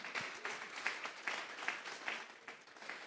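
A church congregation claps at a Spanish-language sermon, faint and distant, with a loose rhythm of louder bursts over a steady patter.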